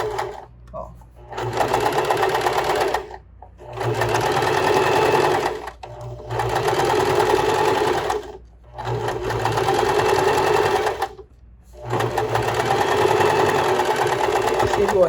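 Domestic sewing machine stitching the facing of a blouse, running in several steady bursts of a few seconds each with short pauses between, close and fairly loud, with a voice talking in the background.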